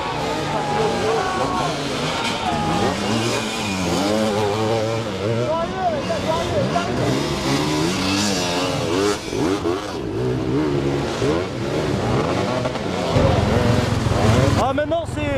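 An enduro motorcycle engine revving at an enduro event in Limousin, a steady droning rev that rises and falls under ongoing talk, with a louder surge near the end.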